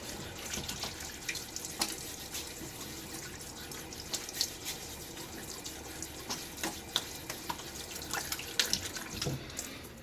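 Tap water runs steadily into a sink while a face is rinsed after a shave, with small splashes and drips over the continuous flow, close by and with no talking.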